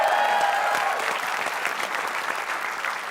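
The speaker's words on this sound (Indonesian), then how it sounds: "Tepuk tangan dong." An enthusiastic studio audience at an Indonesian TV quiz show claps loudly at first, then the dense applause eases slightly and fades a little toward the end.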